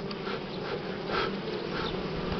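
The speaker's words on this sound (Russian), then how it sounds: "Вот это вторая крайняя рамка, обсиженная таким количеством пчелок." Buckfast honeybees crowd a hive frame during a spring inspection, their dense, steady buzz close and continuous throughout the short stretch.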